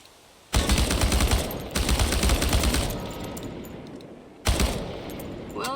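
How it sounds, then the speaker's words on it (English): An automatic weapon fired at cans in the video game Chernobylite, three long sustained bursts of rapid, loud shots separated by brief gaps. "The biggest challenge is compensating for recoil in automatic firing mode."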